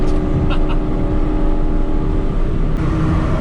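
Loud, close engine roar of a car accelerating, a steady rumble with rising tone filling the whole stretch.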